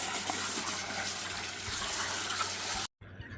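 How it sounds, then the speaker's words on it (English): A garden hose sprays water to wash freshly picked vegetables, making a steady, fairly faint rushing flow that cuts off abruptly near the end. "it kind of works better with the hose anyway, so you can go around and wash all the veggies"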